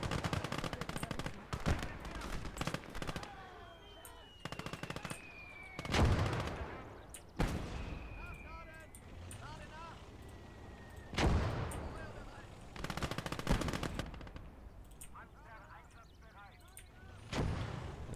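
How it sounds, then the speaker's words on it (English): Mortar blasts and rattling gunfire in the WWII strategy game Call To Arms: Gates of Hell, in a German conquest battle, with booming impacts and crackling shots throughout while someone talks over the combat. "The mortar's firing."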